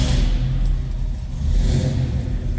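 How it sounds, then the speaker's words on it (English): A 1967 Chevrolet Chevelle SS engine runs loud and close, a deep steady idle with swelling revs from a cold start. "Every time I fired this car up, it starts that easy."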